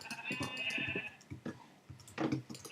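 Several sheep bleat in quick succession in Minecraft, a few short wavering cries close by.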